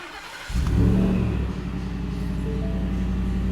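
A 750-horsepower Shelby F-150 pickup with a new exhaust cranks and fires at close range, flaring into a loud, deep roar before settling into a strong, steady idle.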